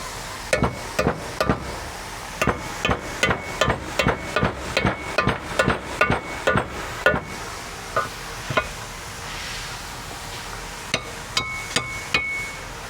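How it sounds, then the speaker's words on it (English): A hammer taps a bushing down into a CFMOTO UForce U10 Pro forward control arm, with sharp, close metallic strikes in quick runs, pausing, then a few more scattered taps. "can get them fully seated using a hammer just by tapping it down into place"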